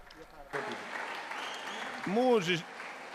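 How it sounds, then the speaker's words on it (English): Applause breaks out from a youth festival crowd at Medjugorje, starting abruptly and holding steady, with a voice briefly rising above the clapping toward the end. "Please stand up and please give them huge applause."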